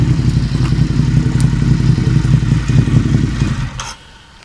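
A motorcycle is ridden on a race circuit, its engine loud and close with a rough, clattering drone that holds steady for about four seconds before it suddenly drops away.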